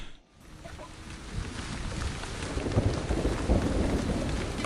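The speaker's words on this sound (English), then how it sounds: "In May, the rains came." Steady heavy rain pours down in the game Jurassic World Evolution, with a low rumbling thunder building underneath, a dense continuous wash of noise.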